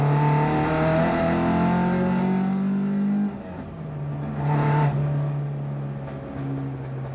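A Mk2 Ford Escort on semi-slick tyres accelerates hard up through the gears, its engine rasping loud and close before a shift dip, then rising again as it fishtails.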